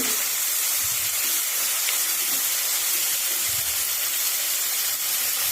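Finely chopped tomatoes hitting softened onion in a hot pan, a steady broad hiss of sautéing that runs evenly throughout, close and continuous with no talk over it.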